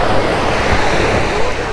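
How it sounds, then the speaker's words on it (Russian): Sea waves rolling onto a wide beach at Vityazevo, a loud close wash of surf blended with heavy wind buffeting the microphone. "Вот, смотрите, разве это волны?"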